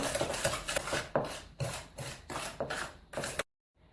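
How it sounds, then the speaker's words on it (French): Egg yolks whisked with sugar in a bowl, a close, repeated rhythmic scraping and stirring in strokes that stops abruptly. "vous mélangez les jaunes avec le sucre pour obtenir un mélange bien coulant"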